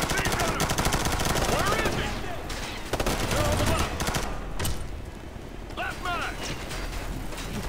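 Rapid automatic gunfire and bursts of shots from the video game Ghost Recon: Future Soldier, loud and dense throughout, with brief lulls, explosive booms and faint voices in the mix.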